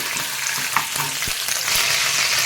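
Ginger garlic paste fries in hot oil with a loud, dense, continuous sizzle that swells slightly toward the end, a few soft stirring knocks underneath and no talking.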